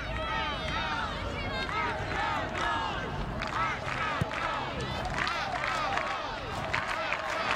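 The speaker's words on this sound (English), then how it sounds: "Crowd getting into it." Florida State's home crowd cheers and whistles at an NCAA women's soccer tournament match against Penn State, a steady, dense roar that runs throughout, with a commentator talking over it.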